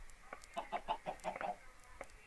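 Chickens in the video game Minecraft give a quick run of soft clucks, about eight short calls in a burst, fairly faint with no talk over them.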